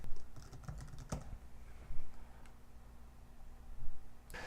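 Keystrokes on a computer keyboard while entering a website domain name, a scattered run of light clicks at close range with a steady low hum underneath, no voices.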